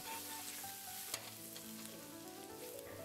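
Chopped big onion frying in butter over a high flame, giving a soft, continuous sizzle with one small clink partway through and no talking.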